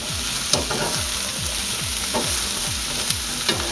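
Potatoes being stirred in a hot frying pan with a spatula for a potato and egg hash: steady frying sizzle under a run of regular scraping strokes, roughly three per second, close and loud, with no talking.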